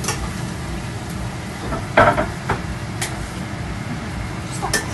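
Garlic sizzling in a hot pan while shrimp in tomato garlic sauce is cooked, with a steady frying hiss and a few sharp clinks of utensils against the pan.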